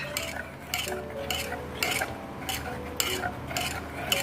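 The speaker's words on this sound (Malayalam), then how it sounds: "ധാരാളം മതി നന്നായിട്ട് ഇളക്കി കൊടുക്കണം" A spoon stirring onion sambar in a pot, scraping and clinking against the metal in regular strokes about twice a second, close and moderately loud, with a faint background hum.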